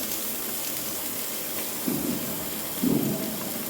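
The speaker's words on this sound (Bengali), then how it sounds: "এই গাজরগুলো এখন আমি দিয়ে দেবো, দিয়ে সমস্তটা একসাথে ভাজতে থাকবো" Grated carrots fry in a pan for Maggi noodles, giving a steady, even sizzle throughout with two short louder bursts as the pan is stirred or the carrots settle.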